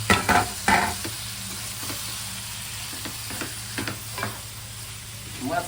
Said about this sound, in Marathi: आता आपण जे स्क्वीड आहे आपला मॅरिनेट करून ठेवलं ते टाकू